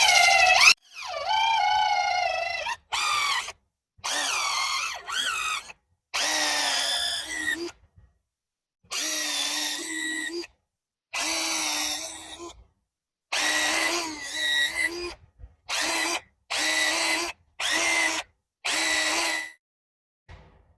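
A power drill with a step bit runs in repeated bursts, its motor whine rising and falling as it bites through metal, with short pauses between each run.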